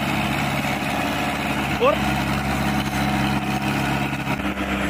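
An Ace 450 45 HP tractor drives a 7-foot Shaktiman rotavator, its diesel engine chugging steadily and loudly throughout while someone talks over it.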